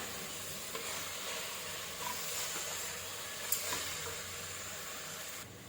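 Tomatoes cook with salt in a pan, giving a steady, low hiss of sautéing with faint stirring scrapes throughout and no voices.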